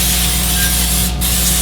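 Cooking oil sprays from a can into a foil-lined air fryer as one loud, close, continuous hiss that breaks off briefly near the end.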